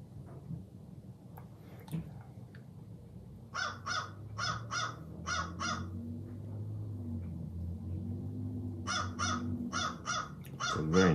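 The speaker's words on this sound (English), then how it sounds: "so the crows are having fun." Crows caw outdoors in two rapid runs of harsh, repeated calls, moderately near, over a low continuous rumble of background noise.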